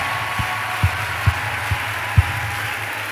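Church audience applauding in a large hall, a continuous dense wash of clapping with a few louder low thumps at regular intervals.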